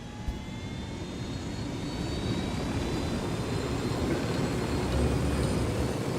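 A steady aircraft engine drone in the video game Ghost Recon Wildlands, a continuous mid-level roar that rises slightly in loudness, with no talking.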